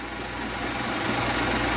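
A 1950s Allis-Chalmers WD-45 tractor engine runs steadily as the tractor moves down a field, a constant rumbling drone at even loudness throughout, with no voices.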